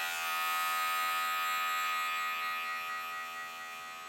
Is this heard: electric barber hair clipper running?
yes